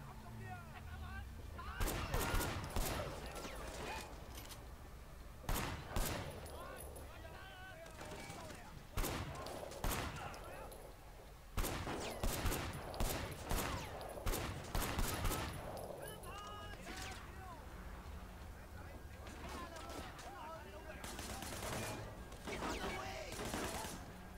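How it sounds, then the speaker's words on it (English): Pistol gunfire in the video game Sleeping Dogs cracks out in scattered single shots and quick bursts, sharp and loud against background game noise, with someone talking at times. "while I'm shooting these guys up"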